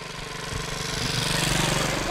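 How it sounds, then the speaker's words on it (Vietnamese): A motorbike engine runs close by outdoors in the Vietnamese countryside, a steady loud mechanical chug with a slight swell as it passes, while kite flying goes on nearby. "Xe máy."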